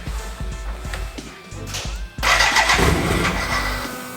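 A BMW K100 motorcycle engine cranking and then catching on a cafe racer build, with a choke applied: rhythmic starter churning, then a sudden loud roar that settles into a rough idle, close up.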